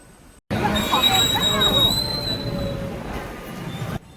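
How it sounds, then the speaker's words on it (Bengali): Train rolling past a level crossing in Odisha, heard close and loud as a steady rumble with a high wheel squeal, the passage starting abruptly and running continuously, with voices murmuring underneath. "আপনারা দেখতে পাচ্ছেন ওখানে ট্রেন যাচ্ছে বলে আমাদের টোটোটাও দাঁড়িয়ে রয়েছে।"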